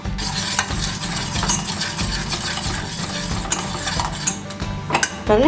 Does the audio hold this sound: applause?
no